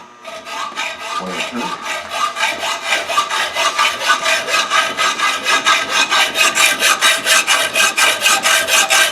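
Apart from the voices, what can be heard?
hand sawing a mild steel rod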